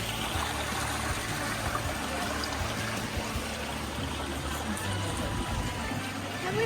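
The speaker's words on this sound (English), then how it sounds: "this water flows from the mountain stream" Steady rushing of a mountain stream, water flowing continuously over rocks with a full, even wash of sound close by.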